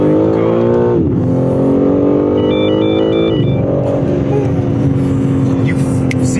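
An all-wheel drive car accelerates hard, its engine note climbing through gear changes with two clear shift drops, loud and close, with a person talking over it.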